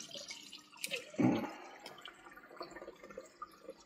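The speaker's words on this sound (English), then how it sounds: "We're on dumping the last radiator." Water splashing and trickling as it drains out of a heating radiator, with one louder gush near the start, then softer dribbling and drips.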